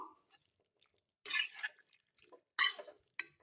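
Water is poured from a tumbler into a cooking pot of sautéed vegetables for a tamarind-free poricha kuzhambu. Two short splashing bursts come amid quiet kitchen clinks.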